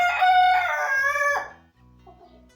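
Rooster crowing up close, one long, loud call lasting over a second that fades out, followed by softer clucking from the flock.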